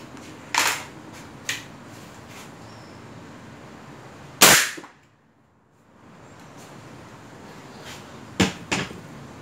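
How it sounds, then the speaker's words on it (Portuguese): One loud, sharp CBC Montenegro revolver gunshot with an explosive bullet at close range, preceded and followed by a few lighter clicks and knocks in an otherwise quiet space. "O barulho é bem diferente com a bala explosiva, bem diferente."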